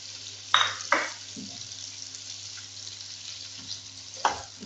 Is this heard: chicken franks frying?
yes